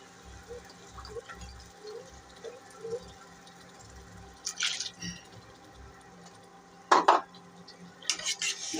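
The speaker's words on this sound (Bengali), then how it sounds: "এখন ভালো করে কষাবো।" Chepa shutki bharta, a fermented dried-fish mash, being stirred and sautéed in a pan, with soft scraping and clinks of a utensil against the pan, a couple of louder sizzling bursts and faint background clatter.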